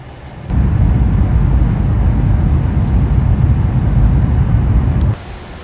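Reverse thrust roaring on a PMDG 747-8 landing in a flight simulator during a severe thunderstorm, a loud steady low rumble surging in abruptly, holding for about four and a half seconds, then cutting off.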